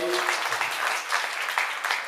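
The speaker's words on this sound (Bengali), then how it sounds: "একটু হাততালি দেবেন এই সবাই" Audience applause for children's artwork at an Udichi New York Bijoy Dibas annual program, a brief burst of dense clapping from a crowd.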